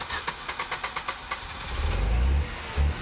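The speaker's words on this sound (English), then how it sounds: "The engine turned over." A car engine is cranked with a rapid series of starter clicks and whirs, then catches and roars into a loud, close running rumble that swells once more near the end. Nobody speaks.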